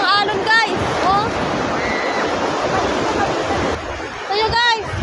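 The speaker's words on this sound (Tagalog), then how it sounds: "grabe lakas ang alon" Strong ocean waves break on a sandy beach, filling the clip with a loud, continuous surf roar. Voices call out near the start and again at the end.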